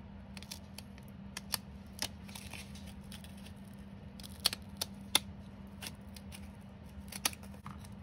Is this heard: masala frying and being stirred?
no